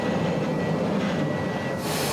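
Emu Bay Railway steam locomotive on the Emu Bay Celebration Tour rolling along under light braking, a steady low rumble of wheels and running gear with a brighter hiss rising near the end.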